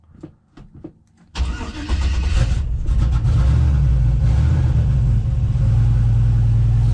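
A 1974 Chevrolet C10 squarebody with a turbocharged LS engine swap cranks briefly after a few clicks, then fires and settles into a loud, deep, steady idle rumble close by.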